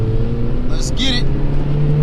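An Acura RSX pulls hard in second gear, its engine droning loud and close from inside the cabin, with a brief higher whine midway and a voice speaking over it.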